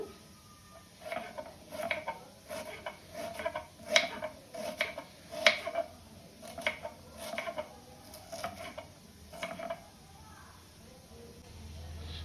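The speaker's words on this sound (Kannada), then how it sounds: "ಸಣ್ಣ ಉಳ್ಳಾಗಡ್ಡಿ ಕಟ್ ಮಾಡ್ಕೋಬೇಕು, ತುಂಬಾ ಸಣ್ಣಾಗಿ ಕಟ್ ಮಾಡ್ಕೋಬೇಕು" Small onions chopped very finely with a knife on a board, a steady run of quick, close, light taps in a regular rhythm, fading toward the end.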